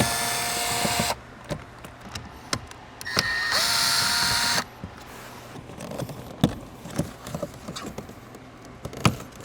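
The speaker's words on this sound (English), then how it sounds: "So let's first remove this under panel by removing those Phillips screws." Phillips screws come out of an under panel on a Lexus LC 500 as a power driver whirs in two short bursts, followed by scattered clicks and taps at close range, fairly faint, with no talking.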